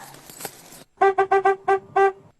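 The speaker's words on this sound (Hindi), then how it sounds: "हॉर्न क्यों बजाए जा रहे हो?" Six short, loud honks from a car horn sound up close in a quick, uneven series, after a brief bit of background noise.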